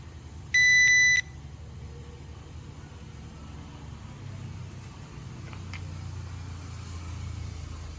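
A cheap unbranded hidden camera detector gives one loud electronic beep of about half a second during a test, with faint background noise before and after.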